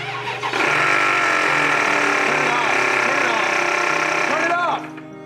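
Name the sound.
Range Rover engine running with abnormal noise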